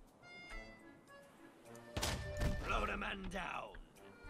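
Pirate ship cannons firing in the video game Unearned Bounty, a sudden heavy boom followed by rumbling blasts, with someone talking over it.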